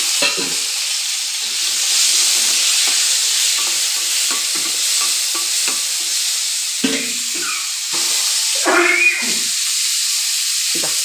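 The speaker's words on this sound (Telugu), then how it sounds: "వంకాయ బజ్జీ బ్రౌన్ కలర్ లేగిన తర్వాత వేగిపోయింది" Eggplant fritters frying in a pan give a loud, continuous hiss and sizzle, punctuated by a run of quick tapping and scraping strokes and a few louder clatters.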